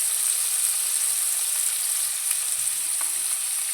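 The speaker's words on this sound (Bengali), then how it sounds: "এবার পেঁয়াজগুলো ভালো করে নেড়ে নেওয়া হচ্ছে।" Onions seasoned with salt and turmeric sizzle steadily in hot oil, with soft scraping stirs from a spatula and a few small pops over the constant crackle.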